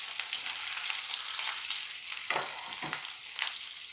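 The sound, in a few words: chopped onions frying in hot oil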